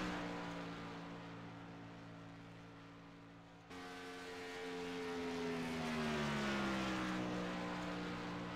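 A race car engine roars at high revs from on board, its pitch climbing and then sliding down as it speeds down the backstretch of a memorial race.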